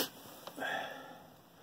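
A person outdoors in about 15-degree cold, working on a Fisher snowplow solenoid, sniffles once up close and fairly loudly. Quiet ambient noise surrounds the sniff.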